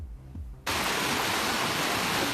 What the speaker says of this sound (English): a dry creek bed becomes a rushing river, fueled by a flash flood